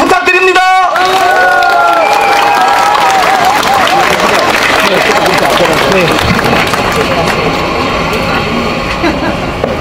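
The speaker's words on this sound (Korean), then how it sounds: "환영의 박수 부탁드립니다." A large crowd at an election campaign rally in Yeongdeungpo, Seoul, applauds loudly to welcome a candidate. Dense, continuous clapping with cheering and shouting voices runs throughout, close and steady.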